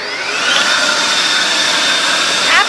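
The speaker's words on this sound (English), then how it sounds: "take the leaf blower, just drive around with it" A leaf blower running loud and close with a steady high whine, carried by someone riding a hoverboard, the pitch wavering slightly near the end.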